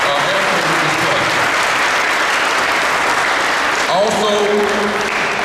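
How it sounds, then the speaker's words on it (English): Audience applause at a sheriff's memorial highway dedication ceremony, a steady dense wash of clapping that fills the whole stretch, with a brief spoken word near the end. "We got to give them all a round of applause"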